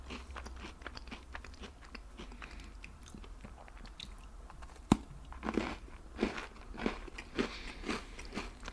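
Cookies, hard and crunchy as well as soft and chewy, being eaten up close: faint chewing at first, then a sharp bite and a run of distinct crunches that come roughly every half second.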